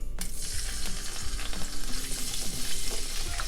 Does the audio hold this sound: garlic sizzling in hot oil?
yes